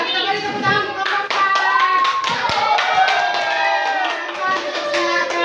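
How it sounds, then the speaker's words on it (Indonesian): A classroom of children clapping for a group, loud, close and rhythmic, with children's voices and excited chatter mixed over the claps. "kita beri tepuk tangan untuk kelompok"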